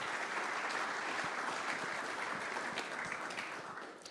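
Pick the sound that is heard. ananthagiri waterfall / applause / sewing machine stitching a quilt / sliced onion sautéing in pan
applause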